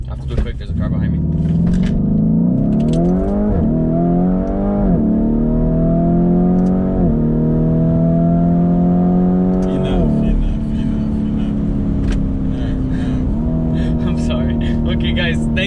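A Lamborghini Urus SUV launches hard, its engine revving loud and close as it climbs through several rising gear pulls, each shift dropping the pitch before it surges again.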